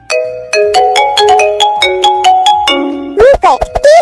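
Hindi mobile phone ringtone, a bright synthesized melody of clear repeated tonal notes for about three seconds, then a few sweeping vocal-like bursts; loud and close with no other sound.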